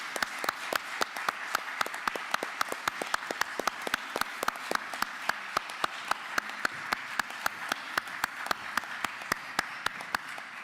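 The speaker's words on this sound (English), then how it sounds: "Let's give them another round of applause." Applause from an audience at a county board of commissioners session, steady and close, made up of sharp, fairly sparse individual claps in a loose rhythm that runs for about ten seconds without talk.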